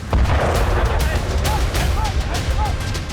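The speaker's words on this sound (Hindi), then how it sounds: "अंडर बैरल ग्रेनेड लॉन्चर्स और अमेरिकी कोल्ट राइफल से गोलीबारी का मतलब है थाईलैंड जंग में है।" Bursts of military gunfire from under-barrel grenade launchers and American Colt rifles in Thai combat, sharp repeated cracks over a dense, loud rumbling background with no clear pauses.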